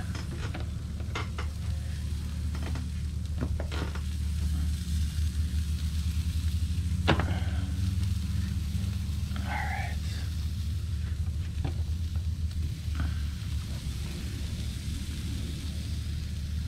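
Crayfish broiling in a pan with a Jamaican-style seasoning give off a steady, close sizzle and frying hiss throughout, with occasional stirring clicks and scrapes and no talk over it.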